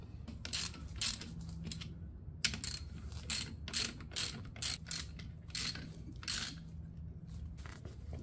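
Ratchet clicking rapidly in short bursts while tightening 15 millimeter bolts and nuts on a Bronco lift kit, close and moderately loud, with brief pauses between strokes.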